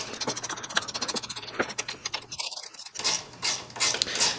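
A ratchet clicking in quick bursts while bolts are tightened on a BMW power steering unit during a fluid and filter change, close up and fairly loud, with short pauses between runs.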